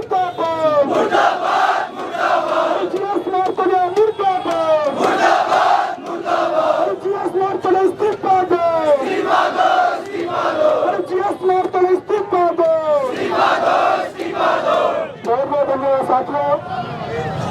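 A large crowd of young people chants slogans at a protest. The call-and-response chanting is loud and close, with rhythmic bursts repeating steadily for over seventeen seconds.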